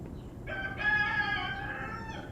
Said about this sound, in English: I have a rooster and it's like 5:30 in the morning, so he's up